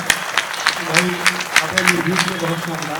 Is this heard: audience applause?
yes